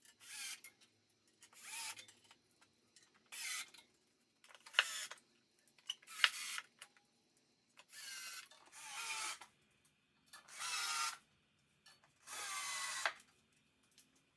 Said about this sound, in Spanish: atornillo las patas al tablero de madera, pero sin apretar los tornillos